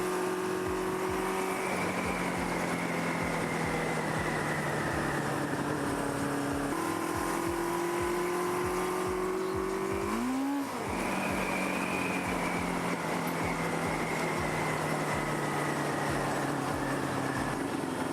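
A Kawasaki KZ650 motorcycle engine runs under way, producing a loud, constant drone. Its pitch steps down and climbs again through several gear changes, with a brief dip partway through and no voices.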